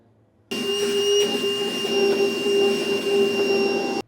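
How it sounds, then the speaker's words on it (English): A vacuum cleaner switches on abruptly during an underbed gooseneck trailer hitch installation, cleaning up metal filings, running with a loud, steady whine and hum, then cuts off just as suddenly a few seconds later. "clean all this up with a vacuum cleaner"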